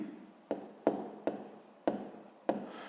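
A pen writes by hand on paper in five distinct scratchy strokes, each starting with a sharp onset and trailing off, close and quiet with no talking.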